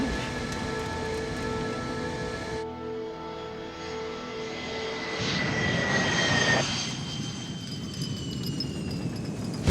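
An Avro Arrow jet pulling a 2G turn at Mach 1.5. A loud jet engine roar with shifting high whines and tones, changing abruptly partway through, then giving way to a broad rushing rumble.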